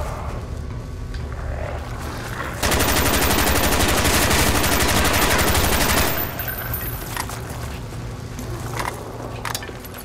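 Steady rapid automatic gunfire in Call of Duty: Black Ops zombies mode at Kino der Toten. It runs loud and continuous for a few seconds among scattered shots and game noise, with no speech.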